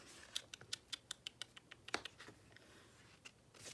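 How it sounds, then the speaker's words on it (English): Sharp tongue clicks made indoors, a quick regular run of about a dozen crisp clicks, then a couple more scattered near the end, alone with no talking. "You hear me clicking my tongue?"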